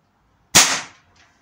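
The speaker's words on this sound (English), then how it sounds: "I suppose it's quieter than a normal Springer without a silencer on it." A single sharp crack from a BSA Lightning SE spring air rifle fired into a firing box, loud and close, decaying quickly with a faint knock just after.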